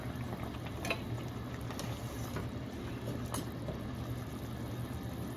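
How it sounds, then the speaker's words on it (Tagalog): A steady, faint bubbling rumble of water at a rolling boil in a pot, continuous and even with occasional soft pops, no voices. "At kumukulo na rin tong ating tubig."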